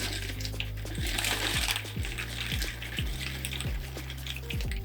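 Dry rigatoni pasta tumbles into a pot of water in a home kitchen, a quick series of light clattering taps and knocks repeating in a rapid irregular rhythm, close and fairly quiet.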